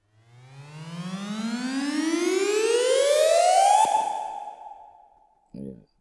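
Synthesizer riser built in Native Instruments Massive with four stacked voices, a steadily climbing sweep that swells over about four seconds, cuts off and is followed by a brief low blip, with no talk over it.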